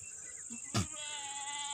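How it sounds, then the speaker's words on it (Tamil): Kodi goats, a colourful herd of mother goats and kids kept for sale at Ettayapuram, give a short bleat near the end, after a brief bump, over a steady high insect-like drone. "ஆடுகளை பாருங்கள் எல்லாமே கலர் கலரான ஆடுகள் தான்"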